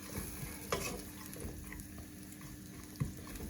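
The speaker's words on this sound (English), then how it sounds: "we're just going to let those sizzle for a bit" Quiet sizzling of onions in a pan, steady and soft, with a couple of sharp clicks of a wooden spoon against the pan.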